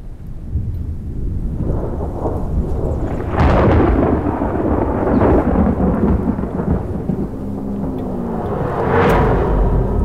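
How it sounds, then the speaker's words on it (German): A heavy spring thunderstorm rolls in over a forest: deep, loud thunder rumbles build and swell over steady rain, with a sharper crack near the end. No voices are heard. "zieht ein schweres Frühlingsgewitter auf"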